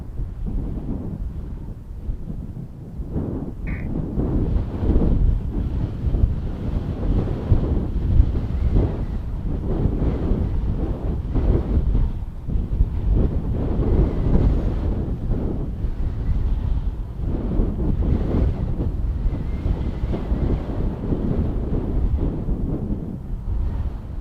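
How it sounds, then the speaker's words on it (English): Strong outdoor wind buffets the microphone at an airport, producing a continuous low, gusty rumble that swells and eases in waves for the whole stretch, with no other sound standing out. "it just doesn't help, honestly, the wind"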